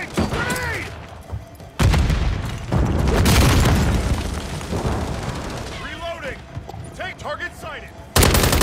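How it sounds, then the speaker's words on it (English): Grenade blasts and rapid gunfire from a Call of Duty match, with loud booming explosions and bursts of shots filling the scene, punctuated by short whistling sounds and brief in-game voice callouts. "Grenade! Incoming!"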